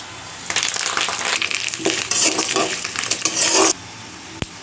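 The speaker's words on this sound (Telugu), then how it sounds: "ఇప్పుడు కరివేపాకు వేసేస్తున్నాను" Curry leaves dropped into hot oil while making dry fish podi crackle and sizzle loudly in bursts, with stirring scrapes and a brief sharp clink near the end; no one speaks.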